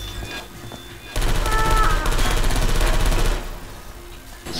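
Rapid burst of automated turret gunfire in the video game Portal 2, a dense, loud rattle lasting about two seconds over low game ambience, with no talk during the firing.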